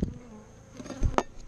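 Disturbed bees swirl around opened beehives, a faint insect buzz with a few louder passes close to the microphone, flaring near the end; no speech.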